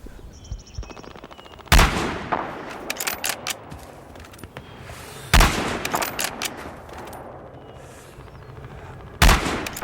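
Sniper rifle shots ring out in a Battlefield Hardline multiplayer match, with three loud, sharp cracks spaced a few seconds apart, each one trailed by a rumbling echo and scattered bursts of distant gunfire and game noise between them.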